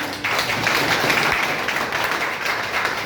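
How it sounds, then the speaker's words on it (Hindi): An audience applauds Sanjay sir at an officers' coaching session for a new batch, with steady, dense clapping that stays loud and even from start to finish and has no talk over it. "और एक बार संजय सर के लिए जोरदार ताली"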